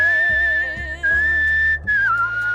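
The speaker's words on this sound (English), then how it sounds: "saunters off, whistling, terribly out of tune" A single wavering whistled tune in a video game, slightly off-key, with a low rhythmic thumping beneath it, loud and close.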